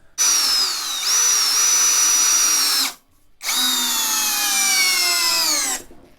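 A Leader Ultra 20V impact driver (45 Nm) drives a large screw into wood: two long, loud, whining motor bursts with shifting pitch, separated by a brief pause.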